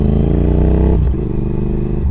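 A modded Triumph Thruxton R motorcycle engine thrums loudly during a ride, a steady throaty note that shifts down in pitch about halfway through.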